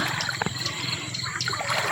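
Water trickles and splashes steadily as it is poured out beside a shrimp and fish pond, with a few brief splashes standing out.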